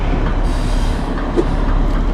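White Pass Railroad train running with a loud, steady rumble of rolling wheels and railcars, close and continuous without pause.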